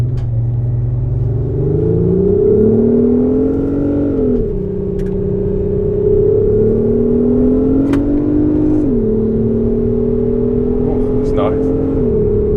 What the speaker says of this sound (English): The next one is the R35, so the Nissan GTR R35.